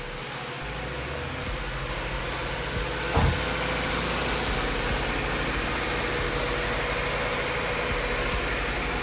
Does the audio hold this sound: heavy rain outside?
no